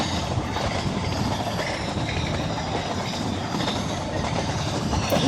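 An Indian Railways train runs along the tracks with a steady, dense rumble, rhythmic wheel clatter and faint squeals, loud and continuous from start to finish.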